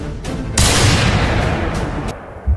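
A burst of gunfire, sounding like a pistol shot, comes through as a loud, sustained crack of noise lasting about a second and a half, followed by a short thump near the end.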